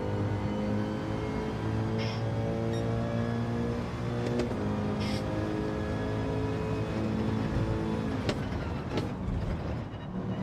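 A naturally aspirated Mercedes race car engine in a single-make league race drones loudly and steadily for about ten seconds, with a few brief shifts in pitch and no speech.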